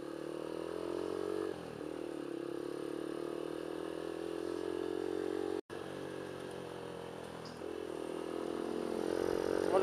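Five motorbikes ride together: Yamaha Aerox, NMAX and M3 automatic scooters plus one manual bike. A steady, close engine drone holds, briefly dips, then swells louder toward the end.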